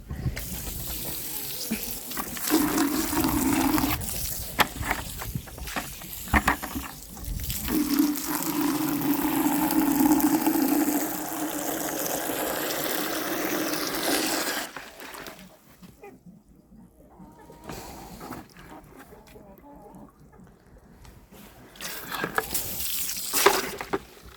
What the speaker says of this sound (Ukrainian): незручно наливати оце шлангою воду